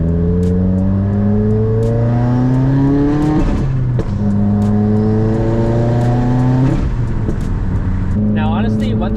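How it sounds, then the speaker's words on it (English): Subaru WRX engine with a loud aftermarket setup revving repeatedly in traffic, rising harmonic tones climbing and dropping in three pulls, with a brief turbo blow-off flutter at the end, loud and close throughout. "My car's just loud."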